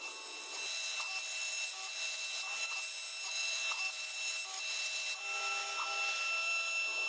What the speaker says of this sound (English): to hold the keystone part while cutting a mortise in the side. This again is a 1/8 inch end mill.